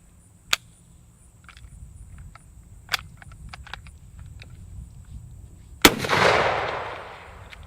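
Carbine gunshots outdoors: two sharp, isolated cracks a couple of seconds apart, then a louder blast that rolls away in a short echoing tail, with faint insects and small ticks in between.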